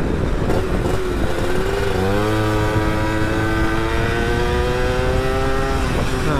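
Yamaha F1ZR 2000 two-stroke motorcycle fitted with a Chan Racing muffler, loud and close, revving up with a rising, raspy engine tone that climbs steadily for several seconds.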